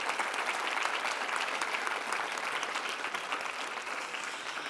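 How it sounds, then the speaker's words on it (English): Sustained applause fills a conference hall after a cleantech panel, an even wash of many hands clapping at a steady level from beginning to end, moderately distant. "A very warm applause to your moderator, Jacek, and to your 4 speakers"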